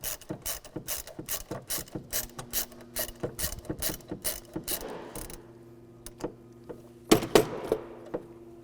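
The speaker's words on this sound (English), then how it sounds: "Take a 13mm socket, take this battery hold down off." A 13mm socket ratchet loosening the battery hold-down bolt on a Volkswagen Beetle: fast, steady ratcheting clicks for about five seconds, then a pause and a few isolated clicks and metallic knocks, close and alone.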